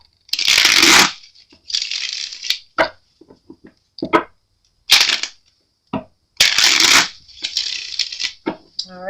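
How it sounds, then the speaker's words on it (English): Tarot cards are shuffled by hand in bursts, crisp riffling rustles lasting about a second each with clicks and taps between, close and fairly loud, separated by quiet pauses. "but I do want to shuffle on camera"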